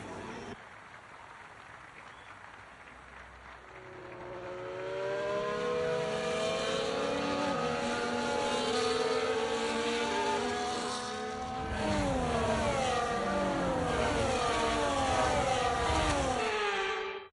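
Formula 1 race cars on the formation lap before the Miami sprint pass in a steady stream, their high engines whining and shifting pitch as several go by at once, rising in loudness and holding near, with no speech.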